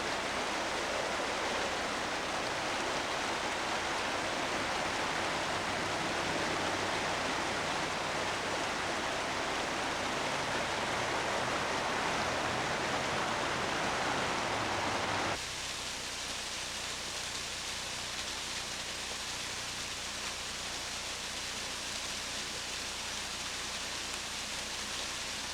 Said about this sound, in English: This is the waterfall at Gulf Stream